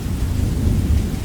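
Steady rain falls on a city at night, a dense, even hiss with a deep low rumble underneath. The sound is continuous and fairly loud, with no voices.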